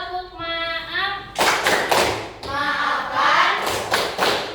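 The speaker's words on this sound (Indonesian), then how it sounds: "Kita sama-sama tepuk maaf." A classroom group performs a rhythmic clapping chant called tepuk maaf, with bursts of unison claps alternating with a voice or chanting, close and fairly loud.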